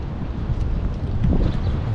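Steady wind rumbles and buffets across the microphone in Tirana, a constant low roar with no voices.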